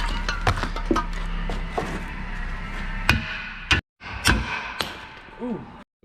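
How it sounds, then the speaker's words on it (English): Metal hammer blows on a brake part of a 1990s Honda Accord during a brake job, a series of sharp, close, irregularly spaced impacts with short pauses between strikes. "Now I'm just going to hammer the shit out of this until it pops out this way."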